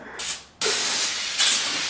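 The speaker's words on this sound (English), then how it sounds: "Oh, I sprayed the wrong way." Aerosol spray can hissing in short bursts: a brief spray, a pause, then a longer, louder, close hiss that continues to the end with a small surge partway through.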